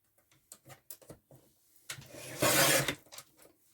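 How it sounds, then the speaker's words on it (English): A Tim Holtz rotary trimmer slices a thin sliver off the edge of paper while a memory book box is assembled. A few light taps lead into a short, close, rasping slide of the blade. "Tim Holtz rotary trimmer, which is my go-to trimmer now"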